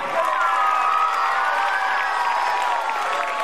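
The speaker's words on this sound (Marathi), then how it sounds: "जोरदार टाळ्या वाजवा म्हणजे थंडी पळून जाणार आहे" Children in a school audience clap and cheer at a prize-giving gathering, a dense, steady wash of noise that holds loud and unbroken for several seconds.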